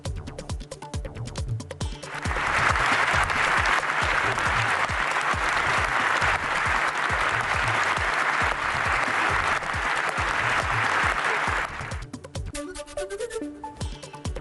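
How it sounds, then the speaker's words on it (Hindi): UK members of Parliament give Zelensky a standing ovation in the chamber, a loud, dense wash of applause swelling after a couple of seconds, holding steady for about ten seconds, then cutting back to murmuring room sound. "सांसदों ने खड़े होकर ज़ेलेंस्की के लिए तालियां बजाई"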